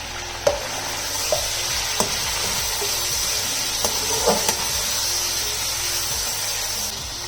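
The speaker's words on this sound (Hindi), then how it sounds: "इन सारी चीज़ों को हम कर लेंगे अच्छी तरह मिक्स।" Crushed green chillies are stirred into chicken biryani in a pot, giving a steady sizzling and scraping under occasional soft clinks of the spoon against the pot.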